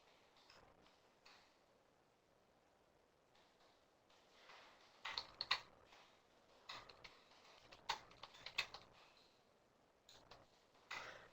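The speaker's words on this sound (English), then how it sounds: "I'm just typing in the room so that you read it." Fingers typing on a computer keyboard in a quiet room, with faint, irregular clicks that grow into denser, sharper bursts during the second half.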